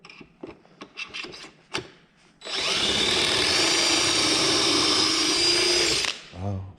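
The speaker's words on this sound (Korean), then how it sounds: "구멍을 2개를 뚫을게요." A drill bores pocket holes into a clamped wood board through a Kreg Jig K5, a steady loud whine lasting about four seconds after a few sharp clicks and knocks of setup.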